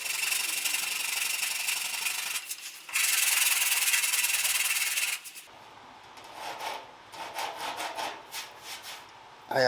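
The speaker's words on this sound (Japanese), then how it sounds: "この傷大丈夫かな、削っちゃって。" Sanding on a Caterham Super Seven body panel to work out a scratch: close, scratchy abrasive bursts, a long loud steady run in the middle, then lighter, broken strokes.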